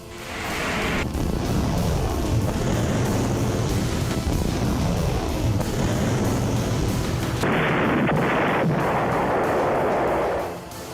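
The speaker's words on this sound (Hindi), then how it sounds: "इजराइल पर बरस रहे रॉकेट बम" Rockets and explosions from attacks on Israel in the Israel–Hezbollah conflict, heard as a loud, continuous barrage of booming blasts and rumbling fire that runs without a break, shifting in tone near the end before cutting off.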